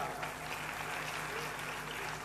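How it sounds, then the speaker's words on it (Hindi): An audience at a religious gathering claps in a dense, continuous patter, faint and somewhat distant, with a low hum underneath. "ताली बजाओ साहब।"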